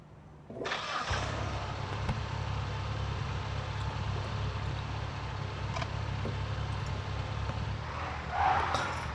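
A Lada Priora car starts up and drives, its steady engine drone and road rumble holding at an even level after a short quiet start, with no talking.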